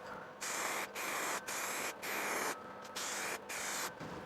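Clear coat sprayed from an aerosol can onto a car headlight in about seven short hissing bursts of roughly half a second each, close and loud, separated by brief pauses, with no talk.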